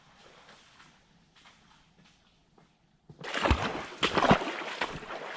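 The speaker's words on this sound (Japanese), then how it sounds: "わあ、滝。" A waterfall in a mountain stream: quiet rustling and a few soft knocks give way to a loud, steady rush of falling water that swells and stays close.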